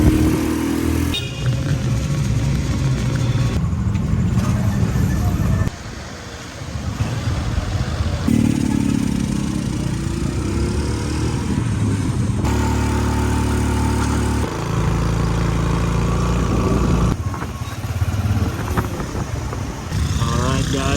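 A motorcycle tricycle engine runs on a Philippine road, with horns honking intermittently amid traffic noise, and people talk throughout over the rumble.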